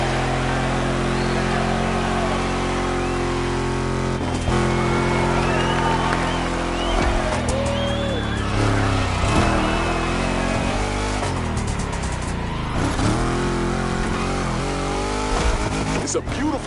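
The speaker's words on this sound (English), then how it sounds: "Let's hear these engines." Several car engines rev and roar together on a sunny day in Oahu, Hawaii, loud and close with rising and falling engine pitch and occasional tire noise, a voice talking over them.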